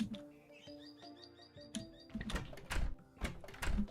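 A golden bird in a video game gives a run of short, tonal, high chirps, then a burst of louder, busier game noise takes over.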